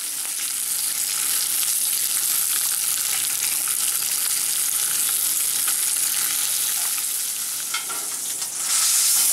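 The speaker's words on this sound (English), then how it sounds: "you can see this is all fried out good now" Bacon fries in a pan with a steady, loud broadband sizzle and crackle throughout, with occasional stirring scrapes and a brief swell near the end; no one speaks.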